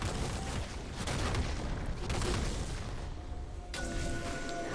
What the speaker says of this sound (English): Cannon Barrage gets dropped.